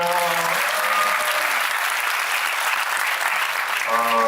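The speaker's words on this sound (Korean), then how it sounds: "박수 한번 주세요" A lecture audience claps loudly at a Korean history talk by instructor Choi Tae-sung, a dense, even burst of applause sustained throughout, with a voice speaking briefly at the start and end.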